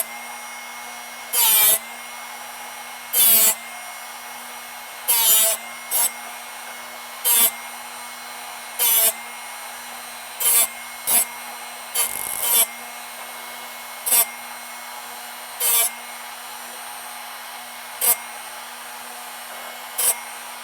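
A Drill Doctor 750X drill bit sharpener hums steadily while repeated short, harsh grinding bursts cut in at irregular intervals as a bit is resharpened, a dozen or so quick passes against the running machine.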